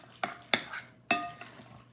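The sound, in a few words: stirring mozzarella into lasagna filling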